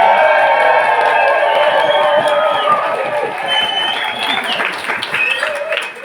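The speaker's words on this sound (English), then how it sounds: "can we get a round of applause for the beautiful" Applause and cheering from a wedding crowd honouring the bride at an outdoor handfasting ceremony in Sark, steady clapping mixed with whoops and voices, loud throughout and easing slightly toward the end.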